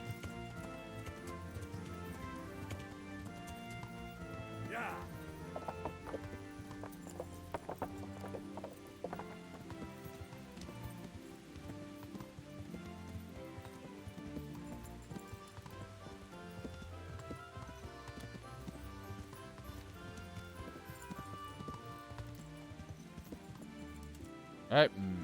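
Horse hooves clip-clop in the medieval video game Kingdom Come: Deliverance, a steady trotting rhythm running under loud game music, with a few mechanical clicks and a sharp sound at the end.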